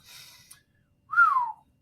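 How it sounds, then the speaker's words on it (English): A man gives a single rising-then-falling whistle of amazement, clear and close, following a brief breathy sound, with no talk during the whistle. "And he whistled in amazement."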